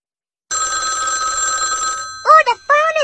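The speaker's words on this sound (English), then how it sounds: "Oh, the phone is ringing." A toy telephone bell rings steadily and loudly for about a second and a half, then stops as bright chirpy electronic tones follow in short bursts.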